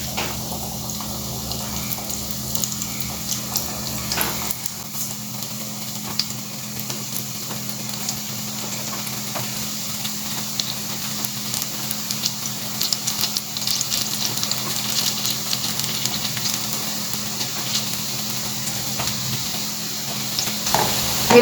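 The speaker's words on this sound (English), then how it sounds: "Take small amount of the mixture and leave it in the oil." Onion pakora batter deep frying in hot oil, a steady bright sizzle and crackle that holds at an even level throughout, close and fairly quiet with no talking.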